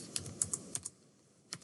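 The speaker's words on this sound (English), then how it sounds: "I'm just going to type in my data" Several crisp keystrokes on a computer keyboard as numbers are typed into an Excel spreadsheet, in quick uneven bursts with a pause before a final tap, close and quiet with no talking.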